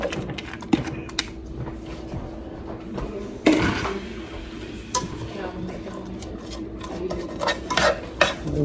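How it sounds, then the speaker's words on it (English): Day-old meat sizzles steadily in a hot pan for New Orleans style shrimp and grits, with continuous frying hiss broken by occasional clinks and scrapes of a utensil against the pan. "And we're going to saute that on down"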